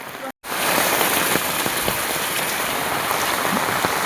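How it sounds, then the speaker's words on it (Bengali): Heavy rain pours down steadily in a broad, dense hiss close by, with scattered louder drops pattering through it and a brief dropout near the start. "আজকে বেজান জবরদস্ত বৃষ্টি দিচ্ছে"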